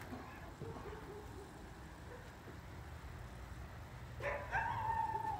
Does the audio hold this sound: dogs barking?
yes